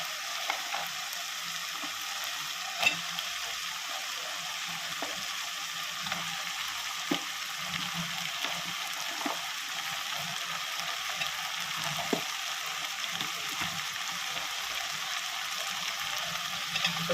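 Steady crackling sizzle of mixed vegetables frying in a pan for a prawn curry, with occasional louder pops and stirring scrapes, continuous and close, no voices.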